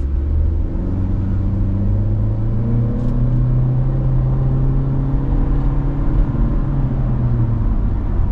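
A 2024 Honda Civic EX-L's 1.5-litre engine with CVT hums steadily from inside the cabin, its pitch climbing gradually as the car accelerates from a stop.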